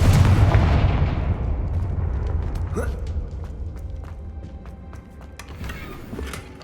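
A Confringo fire spell cast in Hogwarts Legacy on Xbox Series X lets out a loud, booming blast up front, followed by crackling, rumbling impacts and scattered sharp snaps that fade slowly over several seconds.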